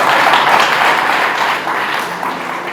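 Church congregation applauding during a Spanish-language sermon, a dense, steady wash of many hands clapping at close range that fades slightly toward the end, with no talking over it.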